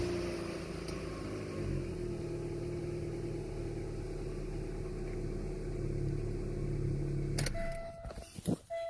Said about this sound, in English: Even without the motor mount, it idles so smooth.